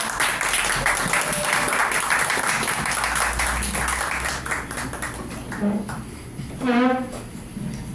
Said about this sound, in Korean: 손뼉으로 모시겠습니다.